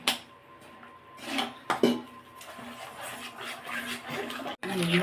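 Roasted gram halwa being stirred in a pan in a Chettinad-style kitchen: a spoon scrapes and knocks against the metal, with a few louder clanks, while a person talks over it throughout.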